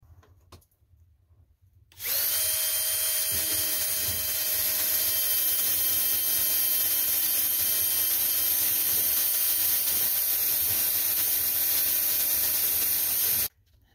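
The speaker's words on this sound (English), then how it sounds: "Okay, drilled the hole and then put in the screw." A power drill bores a screw hole indoors, starting abruptly and running at a steady, loud high-pitched whine for about eleven seconds before cutting off sharply.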